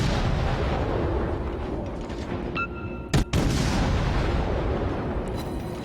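Warship guns fire at an Independence-class aircraft carrier in a naval video game. A single sharp, heavy blast stands out over a steady low rumble of engine and sea noise, preceded by a brief tonal ping, with no speech.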